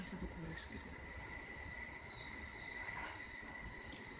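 An E157 series limited express train rumbles past nearby on the Sobu line, a steady low roar of wheels on rails with faint squealing, insects chirping in the background.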